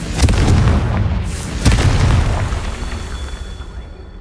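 A Confringo blasting spell detonating in Hogwarts Legacy, two loud booming explosions about a second and a half apart, each leaving a rumbling, fading roar.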